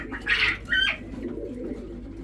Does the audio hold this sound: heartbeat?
no